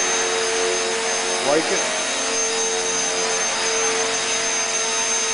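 Radio-controlled model helicopter flying, giving a steady high-pitched rotor and motor whine with a brief swell as it passes, mid-distance and continuous; a short spoken phrase is heard over it.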